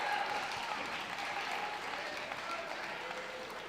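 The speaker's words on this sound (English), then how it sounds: "give Charlie DeSena from Lake Highland Prep a round of applause" Steady applause from a crowd at a high school wrestling tournament, the Ron Peters Tournament of Champions, sustained and even throughout at moderate volume.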